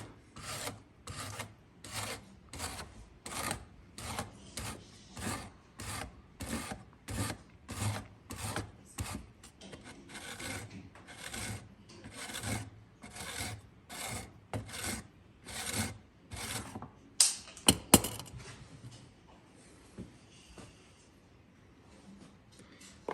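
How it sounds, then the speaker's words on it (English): A hand tool rasps back and forth across a piece of wood, shaving it down in a steady run of about twenty rhythmic strokes. The scraping is close and fairly quiet, ends in a few sharper knocks, and is followed by a quiet stretch. "You can see there it's shaving off a little bit of the wood."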